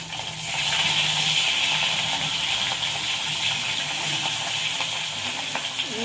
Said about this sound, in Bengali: মাছগুলো প্রথমে ভেজে নেব